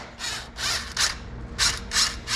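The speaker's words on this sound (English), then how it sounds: "an 8mm on an impact drive. So we'll just use that to take it off" An impact driver with an 8mm socket removing bolts on a 2026 Can-Am Defender HD11 during a drive belt replacement, firing in six short, loud rattling bursts separated by brief pauses.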